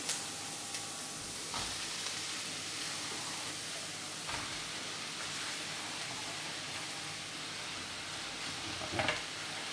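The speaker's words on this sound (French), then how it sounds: "On va maintenant incorporer les champignons." Mushrooms hit a pan of onions and garlic, giving a soft, continuous sizzle with a couple of light stirring scrapes, quiet and close.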